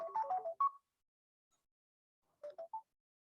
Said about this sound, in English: I apologize, I forgot to mute my phone.